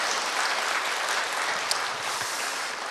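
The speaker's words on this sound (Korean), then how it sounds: "우리 박수하겠습니다." A church congregation gives a steady round of applause for the choir, with dense, even clapping filling the room for several seconds.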